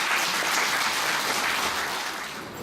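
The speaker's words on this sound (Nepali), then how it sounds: "हाम्रो मान भाइलाई हामी ताली बजाएर स्वागत गरौँ" A church congregation at a Nepali sermon breaks into steady, dense applause to welcome a speaker, a continuous wash of clapping with no voices over it that tapers slightly toward the end.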